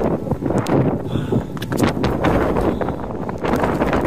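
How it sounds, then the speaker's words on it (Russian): Wind and rain sweep across a mountain ridge on Mount Lafayette in New Hampshire, a steady, close, blustery roar buffeting the microphone with no one speaking. "Сейчас тут ветер, дождь."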